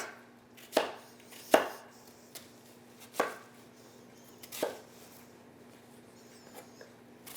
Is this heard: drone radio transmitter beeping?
no